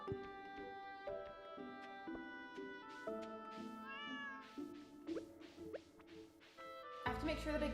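Repeated game cat meows sound over backing music in a farming video game, several short mewing cries in a row near the middle, with a voice talking over the game audio.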